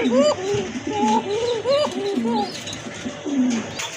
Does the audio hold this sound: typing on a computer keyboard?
no